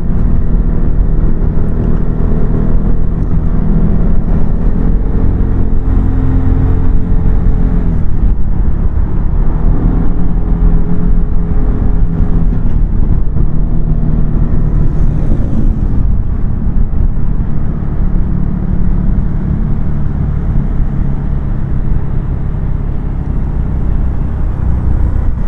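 A QJMOTOR FORT350 Euro5 scooter exhaust drones steadily while riding, a loud continuous engine note mixed with wind rush, dipping briefly midway then settling again.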